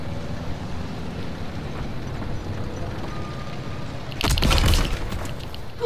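Tank hit and destroyed by an explosion in Call of Duty WW2 during the retaking of Paris, a single heavy boom bursting out near the end after steady low battlefield rumble.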